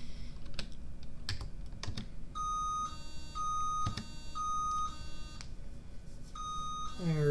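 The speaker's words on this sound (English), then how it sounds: "That's my alarm." An alarm bleeps in repeated short pulses over typing and clicking from a computer keyboard while playing Dungeon Crawl, with a faint voice in the background.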